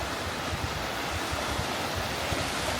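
A roadside waterfall in Cades Cove rushes in a steady, loud, broadband roar, close by and unbroken, with no voices over it.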